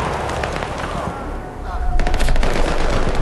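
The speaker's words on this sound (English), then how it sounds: "they are putting down many rounds on us" Heavy automatic gunfire in a Battlefield 3 co-op match: loud, dense bursts of shots that grow more intense toward the end, with distant firing mixed in.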